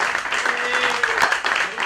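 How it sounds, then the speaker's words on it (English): A live audience applauds Jeremy Davenport and Keith Spera: dense, steady clapping fills the clip from start to finish at close range, with faint voices mixed in underneath. "Ladies and gentlemen, another round of applause, please, for Mr. Jeremy Davenport and Mr. Keith Spera."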